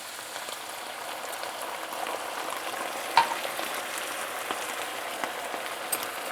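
Red wine poured into a pan of simmering Bolognese meat sauce, bringing a steady close sizzle and crackle with one sharp spit partway through, no voices.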